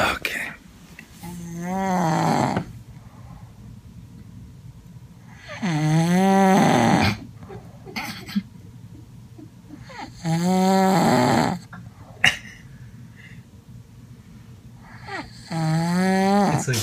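A man snores loudly and close, four long rasping snores rising and falling at regular intervals with quieter breathing gaps between them.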